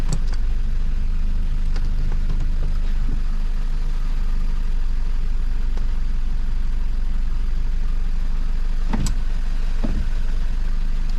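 A car engine idles steadily after a damaged generator (alternator) has been repaired, a close, continuous low rumble running throughout with a few brief clicks and knocks near the end.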